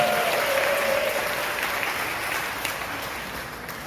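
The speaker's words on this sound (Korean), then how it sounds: "다시 한번 우리 김한성 선생님께 박수 한번" Church congregation clapping together for a teacher at a members' feedback meeting, a steady dense wash of hands that gradually thins and fades over a few seconds, with no talk over it.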